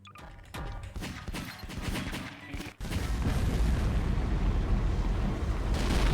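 Bombs and gunfire in Garry's Mod build into a dense, loud roar, with sharp bursts early on and a continuous rumbling blast afterward.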